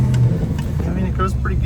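A car with an aftermarket front suspension maneuvering back and forth in a parking lot, a short burst of low engine rumble and tire noise close by, with someone talking over it.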